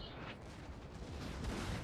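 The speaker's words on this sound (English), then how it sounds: "Oh, he's got his cannons firing." Cannons fire in a siege battle in Napoleon: Total War, a dense rumbling barrage of distant booms rolling continuously with a faint swell toward the end.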